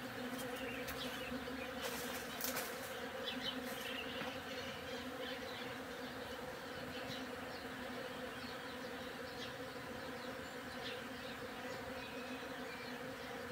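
A dense, steady hum of thousands of bees buzzing nearby, droning continuously at a low volume with occasional louder passes close by.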